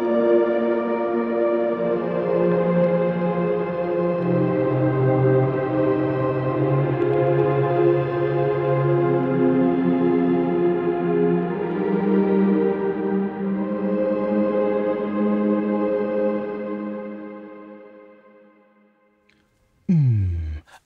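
Airways, a calm synth pad preset from the Logic Pro library, swells in as layered sustained chords that drift slowly between notes, then fades out near the end before a brief final hit.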